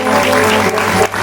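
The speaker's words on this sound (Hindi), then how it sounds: "परिवार बड़ जोरदार ताली बजा दो।" A dense burst of crowd applause at a village Ramayana performance, steady and loud for about a second before cutting off abruptly.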